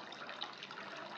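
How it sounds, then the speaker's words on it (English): Teddy bear brown acid dye solution is poured into a yarn dyeing pot, making a soft, continuous liquid splash and trickle for a brief moment. "Pour the teddy bear brown in."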